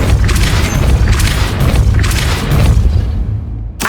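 A booming magical blast from the Depulso spell in Hogwarts Legacy, a loud sustained rumbling burst that rolls on for several seconds before cutting off abruptly.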